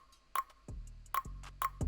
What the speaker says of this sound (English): And I use this little mouth snare.